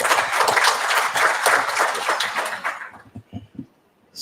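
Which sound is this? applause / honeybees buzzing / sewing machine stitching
applause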